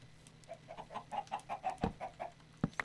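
Chickens in the video game Minecraft, a quick run of about a dozen soft rhythmic clucks, followed by a couple of sharper isolated sounds, faint and with no talk over them.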